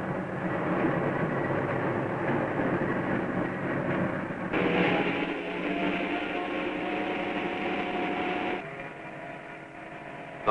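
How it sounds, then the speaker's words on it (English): A long 1950s freight train bound for Chicago starts to roll, giving a steady broad rumble and clatter of engine and cars at moderate distance that shifts in texture as it moves, with no voices. "Slowly, he starts the long line of cars rolling."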